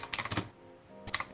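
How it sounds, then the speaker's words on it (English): Typewriter keys clack in two quick bursts separated by a short pause, faint and close, heard in a VR gathering. "I like your typewriter."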